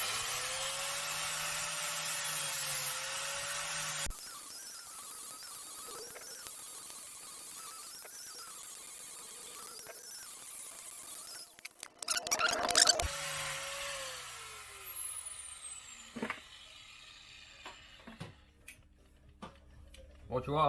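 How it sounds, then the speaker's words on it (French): An angle grinder with a flap disc grinds down rivet heads on a Hinson clutch basket for a Banshee. It gives a loud, steady whine for the first few seconds and then cuts off, followed by quieter workshop noise and someone talking. "armé d'une meuleuse avec un disque à lamelles, je vais venir meuler les têtes des rivets ici"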